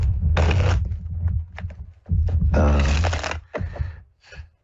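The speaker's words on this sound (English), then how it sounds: "just listening to me shuffle cards" Playing cards being shuffled by hand in bursts of riffling and shuffling, two long loud runs and shorter flicks between, with a voice talking over and between them.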